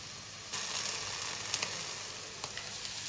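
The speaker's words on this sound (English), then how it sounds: "cook for another 2 to 3 minutes until the vegetables are perfectly sauteed" Vegetables sizzle steadily in a covered pan for white sauce pasta, a soft continuous frying hiss with a few faint clinks, quiet and alone.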